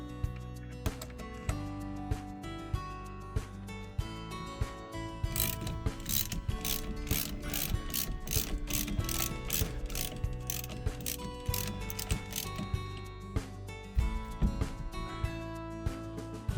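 A ratchet wrench loosens the 9/16 nut on a first-generation Dodge Ram truck steering wheel, with a wheel puller mounted. Steady rapid clicking pawl sounds carry on throughout, close and clear, with a run of sharper bright clicks in the middle.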